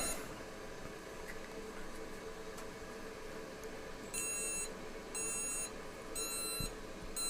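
An ANCEL BM200 PRO battery monitor gives short, high electronic beeps in three brief bursts over a steady background hum. The bursts are spaced a second or so apart.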